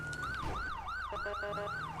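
Police car siren wailing in a steady rising and falling cycle, loud and close, with a second higher tone riding along and a low engine rumble underneath, during a highway response.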